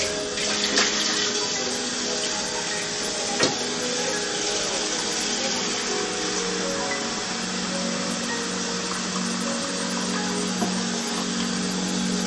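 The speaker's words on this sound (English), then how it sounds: "water." Water runs steadily from a kitchen tap while bean sprouts are prepared at home, a constant broadband rushing with faint clinks and no talk throughout.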